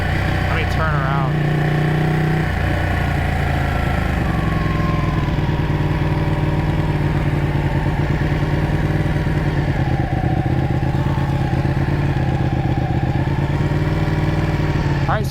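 A Ducati Panigale motorcycle pulls away under throttle. The engine runs loud and close, a rough continuous drone with a rise in pitch as it moves off, heard alongside a voice talking.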